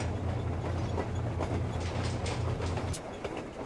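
Train running in the video game Metro Exodus: a steady low rumbling drone with rhythmic mechanical churning, loud and continuous, easing off near the end.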